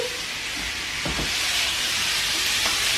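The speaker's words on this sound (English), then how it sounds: "So this is starting to saute nicely." Spiced kangaroo mince sautés with capsicum for chilli con carne, filling the pan with a loud, continuous steamy hiss and sizzle with a couple of soft knocks early on.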